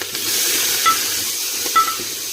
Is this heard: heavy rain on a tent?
no